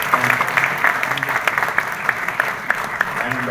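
A crowd at a Bhool Bhulaiyaa 3 film event breaks into loud, dense clapping that holds steady for a few seconds, with scattered sharper claps standing out from the mass.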